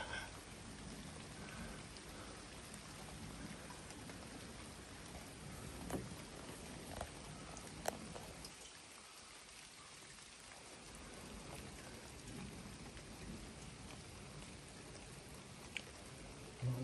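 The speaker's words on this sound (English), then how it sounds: "Lots of more thunder." Quiet steady rain hiss during a September thunderstorm, continuous and faint, with a few scattered sharp ticks and a low rumble that briefly drops away midway.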